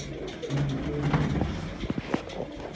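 Pigeons coo nearby in low, throaty calls, several overlapping bursts over a short stretch, with faint background noise.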